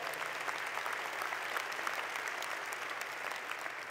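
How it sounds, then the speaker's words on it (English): Audience applause fills a hall at the San Bernardino State of the County event, a dense, steady roar of many hands clapping without pause for four seconds. "Let's give him a round of applause also."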